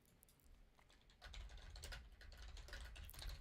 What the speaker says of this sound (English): Just typing words and not thinking about them.